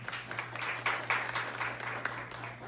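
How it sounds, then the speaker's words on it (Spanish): Crowd applause at a 2020-2021 polytechnic graduation ceremony, a brief continuous patter of many hands clapping at moderate volume under a steady low electrical hum. "Un aplauso para nuestro director"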